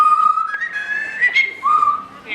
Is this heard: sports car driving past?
no